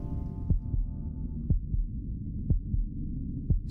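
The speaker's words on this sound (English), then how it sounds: "my heartbeat" A heartbeat effect from the video game Before Your Eyes thumps in regular double beats about once per second, deep and prominent over a low droning hum, with no talk.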